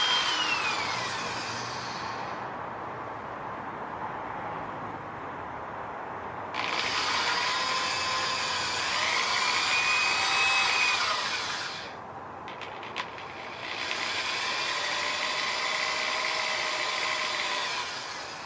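A power drill whines in long bursts, stopping briefly between runs to clear dust, with a grinding buzz as it bites into soapstone.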